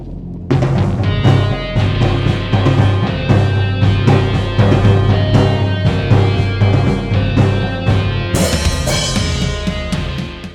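A rock drum beat from the intro of a song: punchy kicks, snares and busy cymbals over a full band, loud and driving, ending the measure on an open hi-hat, with a crash swelling near the end.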